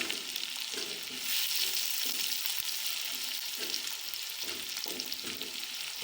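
Chopped onion paste fries in a pot of oil for palak gosht, a steady close sizzle with soft stirring scrapes running throughout, no voices.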